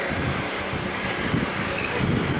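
Electric RC cars race on a stock-class track, giving a steady, dense whine and rumble of motors at moderate distance with no voices.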